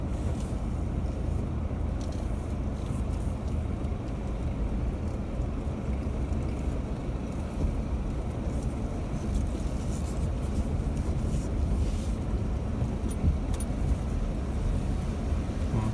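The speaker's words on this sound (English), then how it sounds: "let's go nice and slow through the river" A 4x4 crawling slowly through a river crossing, its engine a low steady rumble blended with continuous rushing water and wind noise, fairly loud and unbroken with no talk.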